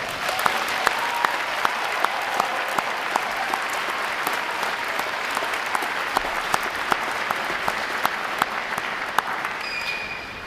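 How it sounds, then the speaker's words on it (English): An audience at a Navy recruit training graduation at Great Lakes gives the sailors a long, sustained round of applause, a broad hall-filling wash of clapping with sharp individual claps standing out close by. "Let's give these sailors a round of applause."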